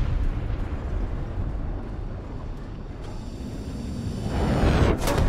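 A heavy tank cannon boom and explosion in a tank video game, with a deep rumbling roar that swells near the end and then a sharp blast.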